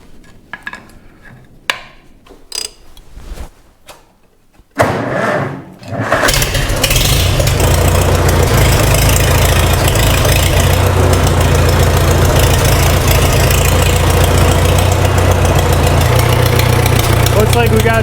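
A Farmall Super M farm tractor engine cranks and catches after some brief handling noises, then settles into a loud, steady close-range idle with a rough, knocking rumble that continues to the end.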